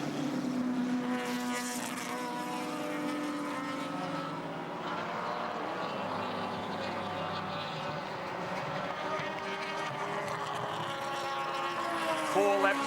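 Touring race cars at Surfers Paradise in 1983, including one driven by a twin-chamber Wankel engine spinning up to 10,000 revs, produce a continuous, loud, whirring engine drone with rising and falling pitch while a commentator talks over it.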